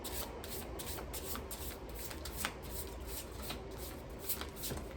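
Shaman's Dream Oracle cards are shuffled by hand in a quick, even stream of soft riffling flutters that carry on throughout, close and fairly quiet.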